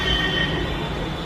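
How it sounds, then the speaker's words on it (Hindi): A metro train pulls into a metro station, a loud steady rumble of wheels on rail with a faint high whine over it, heard close and continuous. "यहाँ पर मेट्रो आने वाली है"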